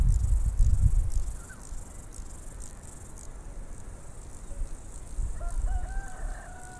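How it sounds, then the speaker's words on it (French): A rooster crows once near the end, clear but moderately distant, over a steady background of chirping crickets and low rumbles. "Merci à ce coq qui vient de chanter comme pour valider"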